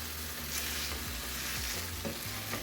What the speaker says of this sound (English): I am just going to use my masher and mash up these tomatoes so it gets more saucier.